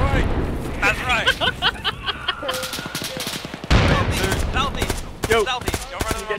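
Gunfire in the military shooter Arma, with rapid bursts and scattered shots crackling throughout, some loud and close, mixed with people talking over the fighting.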